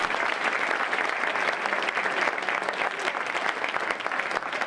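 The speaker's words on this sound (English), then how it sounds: "Let's give him another round of applause." Sustained applause from a seated audience at a talk, a dense, even patter of many hands clapping throughout with no voices on top.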